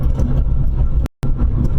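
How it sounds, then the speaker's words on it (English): Road noise inside a car with worn front tires, a loud, steady low rumble and roar that cuts out for a moment and then comes back. "You can hear all this noise coming up from my car."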